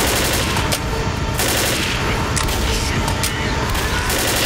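Sustained gunfire from a Left 4 Dead zombie shooter match, a dense continuous burst of shots running through the whole stretch with voices talking over it.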